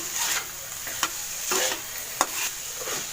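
Ground pork giniling sizzling steadily in a hot pan, with a spoon scraping and stirring through it in a few distinct strokes, close and continuous.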